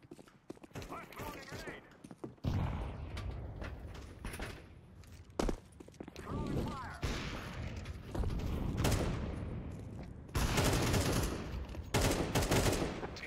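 Counter-Strike gunfire: rapid bursts of rifle shots in close, crisp volleys separated by short pauses, with voices talking over the action.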